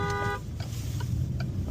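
A car horn honks in French street traffic, a short bright toot at the start over a steady low road rumble, followed by fainter engine noise.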